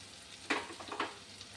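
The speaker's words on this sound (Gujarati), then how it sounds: "હવે ટમેટા સતળાય ત્યાં સુધી આપણે એને સાતળી લઈએ." Tomatoes sauté in a pan for paneer bhurji, giving a faint sizzle with two or three brief stirring swishes close by, with no talking.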